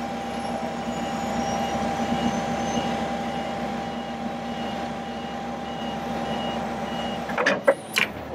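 Steady hydraulic whine and a continuous warning beep tone from the outriggers of a Terex Commander 4045 digger derrick on a 2003 Freightliner FL70 truck being raised, ending with a few clanks and squeaks.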